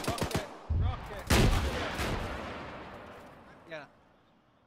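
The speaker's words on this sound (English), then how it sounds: "Rocket, rocket, rocket." Incoming rockets slam down in a military shooter game set during a Chechen uprising: a quick run of sharp bangs, then heavy booms that roll into a long fading rumble, and a further distant blast near the end.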